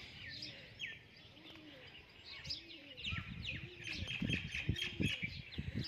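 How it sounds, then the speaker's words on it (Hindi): Soft pigeon coos repeat in a cowshed under a busy chorus of high bird chirps, with louder low rumbling calls building toward the end. "आज हमारी गौशाला में आ गए हैं कबूतर"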